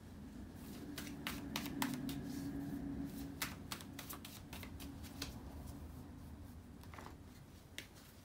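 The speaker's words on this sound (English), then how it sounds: "Just give me a second here to shuffle the tarot cards" Tarot cards being shuffled by hand, a run of crisp riffling clicks and snaps against a steady low room hum, close and fairly quiet with no talking.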